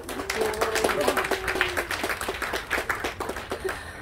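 Audience applause at a national drone fishing competition award ceremony at a riverside resort, a loose crowd clapping steadily with distinct individual claps throughout, fairly close and sustained.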